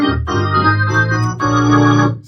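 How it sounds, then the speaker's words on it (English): Drawbar organ with chorus switched on, chords played starting from C1, full rich sustained tones with a swirling thickness, a short phrase of two chord changes, close and loud with no talking. "when I first put the chorus on, I'll start on C1, right? And that sounds like this."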